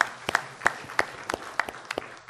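Scattered handclaps from a small church congregation welcoming people during a Sunday service: roughly ten separate claps at an uneven pace, moderately close and fairly soft, with no talking.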